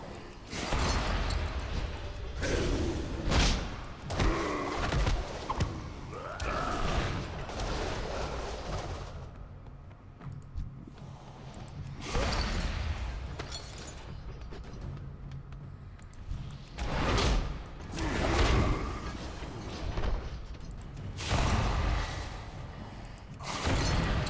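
Repeated bursts of bomb explosions in World of Warcraft, broadband blasts coming every few seconds over a constant busy layer of game effects.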